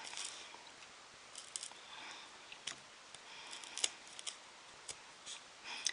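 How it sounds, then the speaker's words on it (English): A blade scoring the top surface of material in a straight line for a travel wagon build, heard as faint, irregular scraping and clicking cuts, quiet and close, with no talking. "I'm cutting the top surface only in a straight line"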